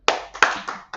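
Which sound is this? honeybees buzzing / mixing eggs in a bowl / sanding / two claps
two claps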